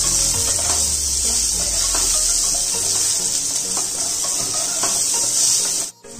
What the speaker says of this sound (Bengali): এবার আমি আলুগুলো তেলে দিয়ে দিচ্ছি।